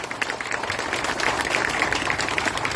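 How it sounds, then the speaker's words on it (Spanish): Audience applause at the inauguration of a road section between Río Lindo and Cañaveral, a steady crowd of clapping hands sustained throughout at moderate loudness. "le pido un fuerte aplauso"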